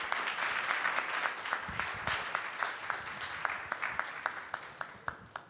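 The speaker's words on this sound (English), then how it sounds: "Let's give a big round of applause to the Sadhu, sadhu." An audience at an evening devotional program in Vrindavan breaks into sustained applause, a dense steady patter of many hands with a few sharper claps standing out, fairly distant and carrying on for several seconds with no talk over it.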